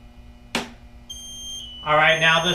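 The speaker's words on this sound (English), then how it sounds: "now the smoke's in alarm" Smoke detector alarm going off during a sensitivity test: a sharp click, then a steady high electronic tone that swells into a loud, harsh buzzing alarm near the end.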